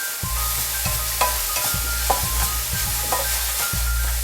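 Chopped onion with a pinch of salt sautéing in a pan for soy chunk curry, a steady close sizzle broken by repeated scraping stirs of the spoon, with a low hum underneath throughout.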